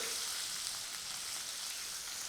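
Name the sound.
tempering mustard seeds, cumin and garlic frying in oil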